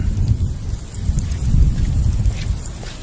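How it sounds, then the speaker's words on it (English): Steady rain and a low rumble of thunder roll over the Venice lagoon as a storm moves in, a dense and even wash of sound with no voices. "A storm is heading towards the lagoon."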